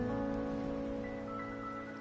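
Steady rain falling in the video game Wuthering Waves, a soft continuous patter under a droning musical background, quiet and unbroken.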